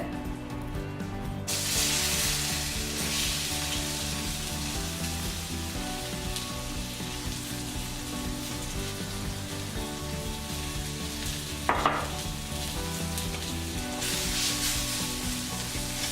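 Onion and garlic sauté in a pan for rasam, giving a long, even sizzle close up, with occasional stirring and a single sharp clink partway through.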